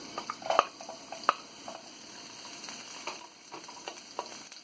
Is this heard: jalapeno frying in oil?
yes